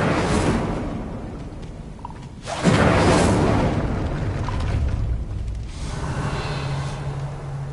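An Incendio fire spell is cast in Hogwarts Legacy, a loud roaring whoosh of flame that bursts in partway through and keeps rumbling steadily to the end, with no talking over it.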